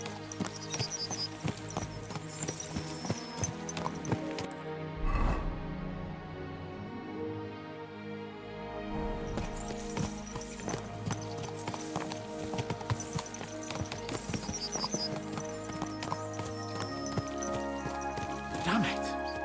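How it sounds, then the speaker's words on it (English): Horses galloping in Kingdom Come: Deliverance II, a steady rapid clip-clop of hooves running through the whole stretch beneath a full music score, with a voice speaking over it at times. "Let's really spur these horses on, eh?"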